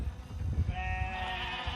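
A sheep or lamb in a clover pasture gives one drawn-out, wavering bleat that rises over a low outdoor rumble, heard at moderate distance.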